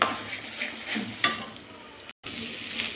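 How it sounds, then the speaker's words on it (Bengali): Sandesh mixture being stirred in a pan until it dries, with a soft continuous scraping and faint sizzle, steady but quiet, broken by a brief gap. "এবার আস্তে আস্তে এটাকে আমি নাড়তে নাড়তে পুরো ড্রাই করে নেব"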